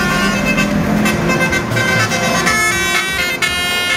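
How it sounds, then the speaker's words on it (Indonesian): A loud, sustained telolet horn on an intercity bus on Jalan Satria in Grogol Petamburan, West Jakarta, playing a continuous musical tone over traffic noise. "Petugas menegur pengemudi bus antar kota antar provinsi yang kedapatan membunyikan klakson telolet."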